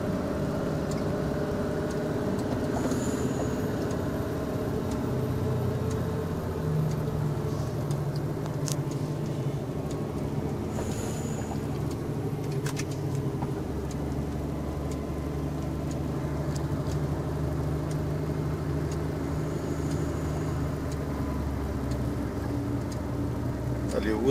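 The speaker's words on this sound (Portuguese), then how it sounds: "Use freio motor, mas quando tá chovendo não é recomendado usar freio motor" A VW 25.390 truck engine-brakes in reduced fifth gear down a rainy mountain stretch of the BR-262; a steady low engine drone runs throughout, with a person talking over it.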